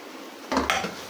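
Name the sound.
stirring chopped mint into onion masala in a pan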